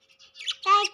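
A pet parrot gives a short, close, shrill squawk that rises into a bright harmonic call, preceded by faint chirps, with a brief voice audible at the very end.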